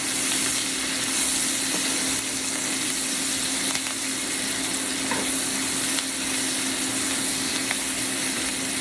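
Green beans sizzle and fry in a hot pan while being stirred, a steady dense crackle with faint scraping, alone with no talking.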